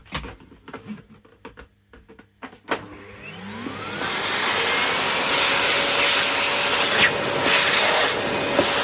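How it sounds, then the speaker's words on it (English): A vacuum cleaner hoovering a model railway track: after a few soft clicks and knocks, the motor whines up and settles into a loud, steady hiss and roar that runs on without talk. "Just give it a quick hoover."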